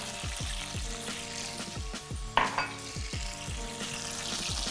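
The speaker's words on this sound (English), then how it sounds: "once those are nice and crispy on each side, you're gonna pour in about a 1/4 cup of water" About a quarter cup of water is poured into a hot pan of crisped dumplings (potstickers), bringing a steady sizzle with a brief sharper burst and some stirring and pan noise.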